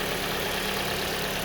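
A 2020 Kia Sportage FWD with a 2.0L inline-4 petrol engine, dual overhead cam and 16 valves, idling: a steady, even hum heard up close without voices.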